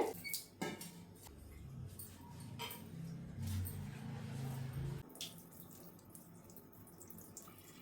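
Water sloshing and splashing in a basin as drumstick leaves are swished and rinsed, with a few drips and clinks, close and fairly quiet.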